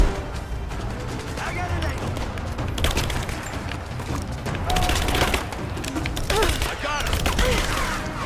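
Dense gunfire and booming blasts in the action video game Rise of the Tomb Raider, a continuous loud barrage of shots and crashes with game sounds layered over it.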